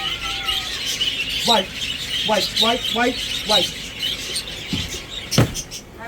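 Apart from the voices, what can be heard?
pet bird Riker screaming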